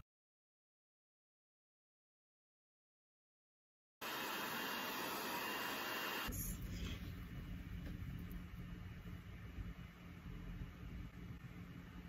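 A hair dryer blows on a 10-inch human-hair short curly bob wig: silence for four seconds, then a loud, steady, close rushing whoosh that continues to the end.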